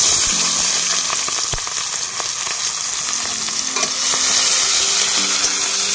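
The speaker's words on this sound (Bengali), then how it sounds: "এখন আমি দিয়ে দিচ্ছি কেটে রাখা পেঁয়াজ" Chopped onions hit hot oil with cumin seeds already darkened in the pan, giving a loud, steady, close sizzle with faint scraping stirs throughout.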